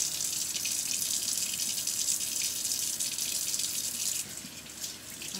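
Tap water runs steadily into a sink while hands are rinsed under the stream, a close continuous splashing rush that eases slightly near the end, with no talking.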